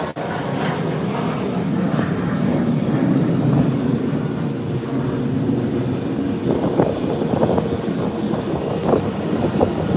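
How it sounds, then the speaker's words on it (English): A jet airliner takes off from Howard Hamilton International Airport, its engines roaring as a broad, sustained rumble heard from a distance, swelling slightly as it climbs away with no talk. "Here's a nice takeoff again."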